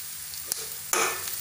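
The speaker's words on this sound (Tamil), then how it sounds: "வெங்காயமும் ஆட் பண்ணிக்கோங்க கருவேப்பிலை லைட்டாக மஞ்சள் பொடி" Onions, curry leaves and turmeric fry in hot oil for a Tamil egg gothsu, with a soft stir at first and then a sudden louder sizzle as the ingredients hit the pan, continuing steadily close by.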